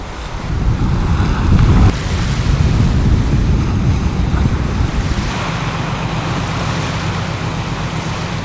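Storm-driven sea waves roll and crash off Jeju under a gale warning, heard from a research vessel, with a loud continuous roar of surf and heavy wind buffeting the microphone and no speech.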